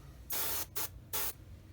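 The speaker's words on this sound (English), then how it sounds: "When you first spray it on, it's almost like you're just spraying thinner only." Paint sprays onto a Tamiya 1/35 Sdkfz 250/3 Greif model kit in three hissing bursts, two longer and one brief, quiet and close with no talk.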